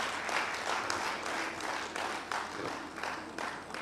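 Applause from the audience at a national HIV and AIDS symposium in Uganda, a steady dense wash of clapping that holds fairly even for several seconds.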